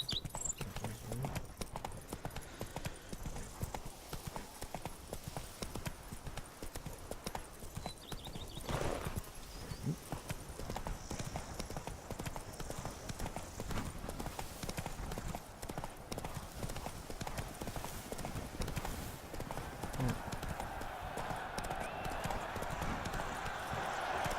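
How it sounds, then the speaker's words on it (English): Roach the horse galloping in The Witcher 3, with a steady, rapid drumming of hooves that runs without a break for a long stretch, close and clear, while a voice talks over it at times. "Giddy up. Come on, Roach. Go, go."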